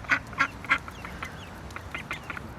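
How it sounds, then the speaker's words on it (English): A mother duck with ducklings gives three loud, evenly spaced quacks up close, followed by softer scattered quacking and chirps outdoors. "There's a mummy duck and 2 cute little babies."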